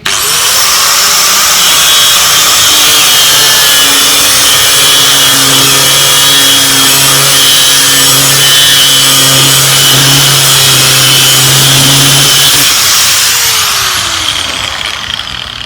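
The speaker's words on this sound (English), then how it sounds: "even though this is only a 3/8 bolt, it still took that long to grind" An angle grinder cuts steadily through a 3/8 bolt, with a loud, continuous high whine and a grinding hiss that hold for about twelve seconds before the motor winds down, with no voices.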